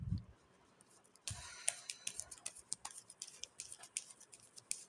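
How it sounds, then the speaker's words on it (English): Tarot cards being shuffled and laid down, heard as soft, close, quiet clicks and light pats that come in an irregular patter, with one brief rustling flurry of shuffling partway through. "I'm shuffling the cards, I'll lay them down"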